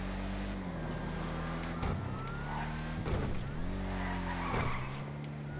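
A Gauntlet Classic muscle car driven hard in GTA Online, its engine revving and dropping through repeated gear changes with bursts of tire squeal, up close and loud, with a voice faintly under it.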